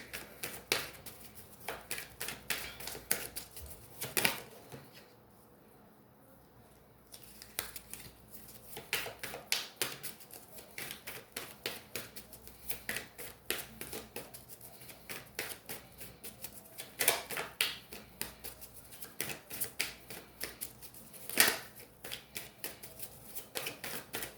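Tarot cards are shuffled up close at a reading table, producing repeated soft riffling and slapping bursts of varying length over a long stretch, with one brief quiet pause early on.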